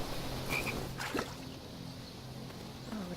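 A frog croaks in the King's Quest video game, a few short throaty calls over a steady ambient game backdrop of water and low hum.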